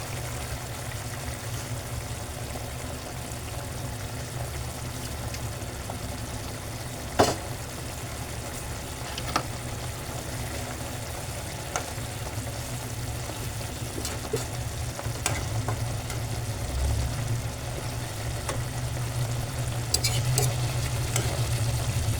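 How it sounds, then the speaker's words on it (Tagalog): Beaten egg sizzles and is stirred into galunggong sarciado in a pan, a steady close frying hiss with occasional utensil scrapes and taps throughout. "Lagay na po natin yung ating binating itlog."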